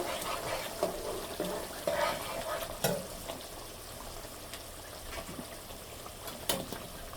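Golda chingri, giant prawns, dropped into a hot pan: a soft continuous sizzle with occasional sharper clicks and scrapes of stirring, fairly quiet and without talk.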